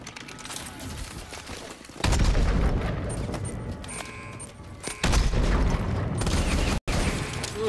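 Heavy gunfire and explosions in the video game Call of Duty Advanced Warfare, a dense loud fusillade with booming surges and mechanical clatter throughout.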